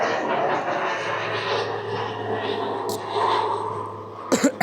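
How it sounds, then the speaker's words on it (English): A fixed-wing airplane passing overhead, a steady broad engine roar that holds at even loudness throughout, with a brief clatter near the end. "There's a plane."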